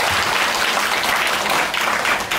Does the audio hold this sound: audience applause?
yes